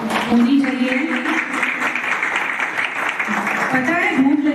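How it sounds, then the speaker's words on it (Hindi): A crowd at a senior journalists' event claps steadily, the applause running for several seconds while voices and background chatter carry on over and beneath it. "तालियां होनी चाहिए"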